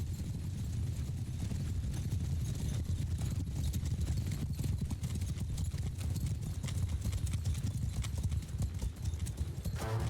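Galloping horse hooves in Mount & Blade II: Bannerlord, horse archers charging forward in a battle, a dense, continuous clatter of many hooves over a low rumble, steady and loud for the whole stretch.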